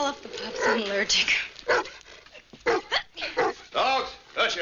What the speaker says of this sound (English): Dogs, hush up.